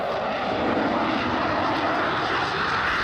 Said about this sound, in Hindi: यूएई का ग्लोबल आई विमान अपनी प्रभावशाली रडार और निगरानी क्षमताओं की ताकत बता रहा है।